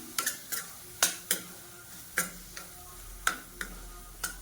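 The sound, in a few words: stirring onion, tomato and spice masala in a pan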